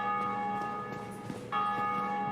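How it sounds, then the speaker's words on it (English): A bell rings steadily with sustained tonal partials, briefly dipping then returning louder partway through, no speech over it. "What's that bell?"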